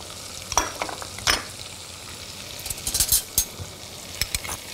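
Salt, pepper, chili and tomato sauce are stirred in a hot pan for a spinach, peanut butter and chicken stew, with a steady sizzle and repeated scraping strokes of the spoon against the pan.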